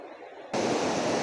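Water rushes down a mountain stream in the Phanom Dongrak range, a steady broadband roar that swells suddenly halfway through and then holds loud and close.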